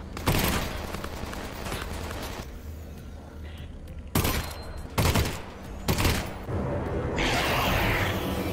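Bursts of three-round automatic gunfire in a video game fight, several sharp loud volleys spaced a second or so apart over steady background combat noise.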